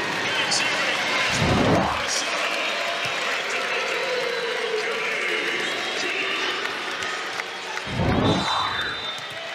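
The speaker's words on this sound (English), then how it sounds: "Gopher crowd getting a little bit more into it." A women's college volleyball crowd for Minnesota against South Florida cheers in an arena, with a loud roar surging and fading on the far side under constant commentary, and a second swell near the end.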